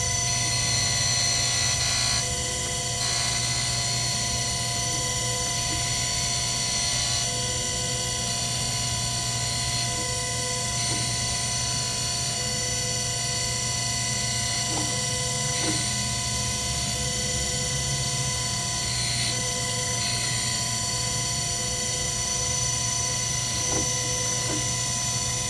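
A Harig 612 3 HP 6 x 12 inch surface grinder runs under load, a steady motor whine and hum with faint intermittent mechanical clicks and ticks throughout, no talking.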